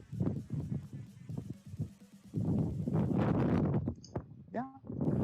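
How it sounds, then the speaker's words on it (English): Outdoor wind gusts buffet a nearby microphone with a deep, rumbling roar that swells for about a second and a half midway, between softer bumps and scrapes. "Here comes the wind. Windy wind, wind."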